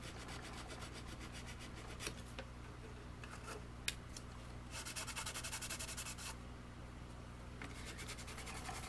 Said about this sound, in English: I'm going to take my file and get rid of that little burr.